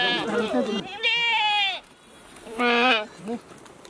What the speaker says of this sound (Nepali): सबै भेडा जङ्गलमा चढ्छन्, तर सूर्यास्त हुन लागेपछि भने यो खाली खेतमा आइपुग्छन्।